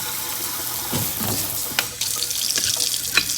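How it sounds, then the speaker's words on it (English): Cold water runs from a kitchen tap into a sink as it fills, a steady close splashing rush with a few brief clatters of dishes or produce being moved in the basin. "I'm gonna fill the sink up with cold water."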